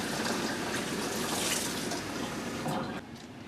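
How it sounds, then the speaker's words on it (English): Water pours steadily into a pan surrounding a springform pan holding a gingerbread cheesecake, a continuous close splashing stream that eases off near the end. "you're going to put the water right here to about 2 inches to the top of the springform pan"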